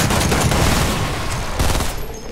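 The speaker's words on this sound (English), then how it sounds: "Here, keep shooting the cube." Sustained gunfire from the video game Fortnite in a zombie-shooting match, a dense, loud barrage of rapid shots filling the whole stretch with no talk.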